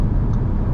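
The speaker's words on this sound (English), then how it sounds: "Wow, that engine sounds so unique" A 2024 Audi RS3 engine rumbles steadily while the car is being driven, a dense low drone that stays loud and constant through a short stretch with no talking.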